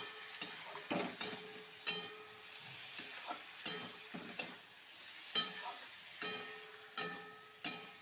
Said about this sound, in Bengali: এটাকে একটু ভালো করে এইভাবে ভাজা করে দিব